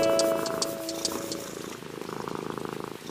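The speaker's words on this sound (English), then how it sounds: "And then we have the big cat." A big cat at Entebbe Zoo purrs in a steady, rumbling rhythm close by, carrying on for a few seconds with no voices over it.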